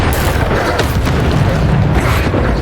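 A Bombarda spell explodes during combat in the Hogwarts Legacy video game, giving a loud, dense, booming blast with rumbling debris that fills the moment without a break.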